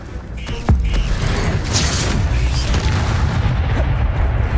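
Fire spell blasts in Hogwarts Legacy, a loud booming burst with roaring rumble and crackle that stays dense and sustained, with a few sharper high accents over the continuous low roar.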